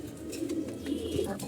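Pigeons coo softly in a loft, low burbling calls repeating close by in a short burst with quiet ambient noise.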